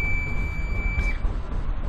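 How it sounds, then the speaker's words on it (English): A chemical tanker's tank high-level and overfill alarm sounds as a thin, steady high-pitched electronic tone over a low engine-room rumble, the tone cutting out about halfway. "These all tanks are giving alarm because the float gauge is going above high level and overfill."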